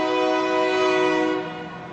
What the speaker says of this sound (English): Check out the train real quick.